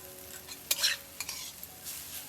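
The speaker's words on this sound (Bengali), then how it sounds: "ভালোভাবে ব্রকলিগুলোর সাথে মিশিয়ে দেব।" Fried broccoli seasoned with ground black pepper is stirred in a pan, with a couple of sharp scrapes of a utensil against the metal over a faint sizzle, brief and close.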